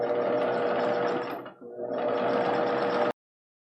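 A sewing machine stitches an ironing board cover in a steady, close, continuous whir that briefly slows and dips in the middle before running on at full speed, then stops abruptly.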